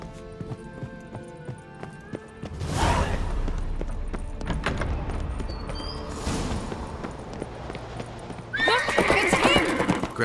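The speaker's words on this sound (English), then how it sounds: "Grab a horse, we'll chase him down." Horses in The Witcher 3 on Skellige gallop with a steady clip-clop of hooves, and loud whinnies and neighs break out partway through and again near the end over a game soundscape of rumbling motion.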